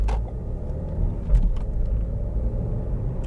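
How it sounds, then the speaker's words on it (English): A car pulls away uphill after the handbrake is released on a quiet road on a driving test route in Croydon, its engine a steady low rumble heard from inside the cabin with a slight rise as it moves off. "Prepare, observe, signal, handbrake, and I'm off."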